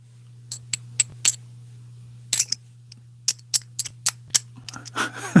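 Pieces of silver jewelry clinking together in a quiet room, a dozen or so bright, short metallic chinks in irregular bursts over a low steady hum.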